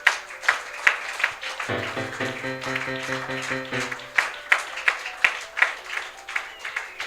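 A church congregation applauding during a sermon: rhythmic clapping in steady beats throughout, with a sustained organ or keyboard chord rising briefly in the middle.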